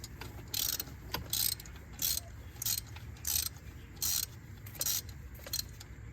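Ratchet wrench on a 6-inch extension turning counterclockwise to break loose a spark plug on a 2006 Dodge Dakota 4.7L, giving repeated short bursts of clicking in an uneven rhythm, close and moderately loud with no talking.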